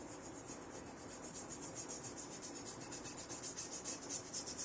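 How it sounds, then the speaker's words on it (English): Paint being scrubbed onto a silver teapot: close, steady rhythmic rubbing strokes that repeat evenly and grow slightly stronger toward the end, with no voices. "I'm just scrubbing that in there."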